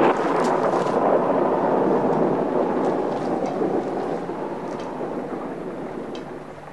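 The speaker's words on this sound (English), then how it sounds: "It's raining too hard." Heavy rain pours down in a steady, dense roar, loud and close throughout, easing slightly toward the end.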